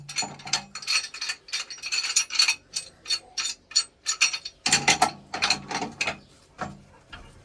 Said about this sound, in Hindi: नट बोल्ट इसके खोल लिए हैं।